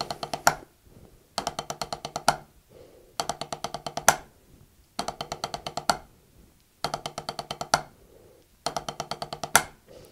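A drum plays repeated short rolls, each a quick cluster of even strokes ending in an accent, separated by brief pauses in a steady pattern.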